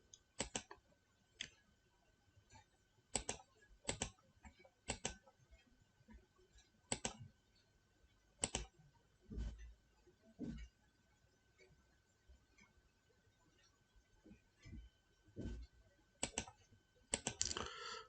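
A date of birth being typed on a computer keyboard: sharp, isolated key clicks in small bursts with pauses between them, close and fairly quiet, with no voices.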